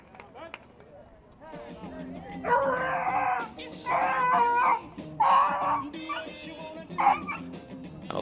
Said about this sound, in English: I don't think that dog likes the Isley brothers.